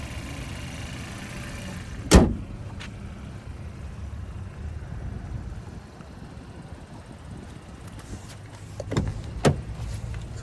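A 2021 GMC Terrain SLT with the 1.5-liter turbo engine idles quietly in a steady low hum, broken by a sharp thump early on and a few light clicks later, with no talking.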